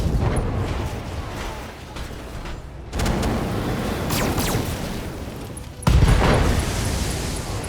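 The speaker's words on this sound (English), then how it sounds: "Ammo explosion. His whole right and left side exploded." Ammo exploding inside a mech in the BattleTech Extended 3025 video game: two loud, booming blasts land about three seconds apart over a dense, rumbling battle din.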